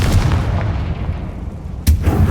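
A Confringo blasting spell from Hogwarts Legacy detonates as a loud, rumbling boom with a heavy low-end roar, followed near the end by a second sharp burst.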